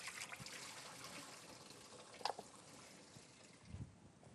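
Water trickling and draining from cow trotters soaked overnight as they are strained, a faint, uneven dribble with a few small splashes and clinks.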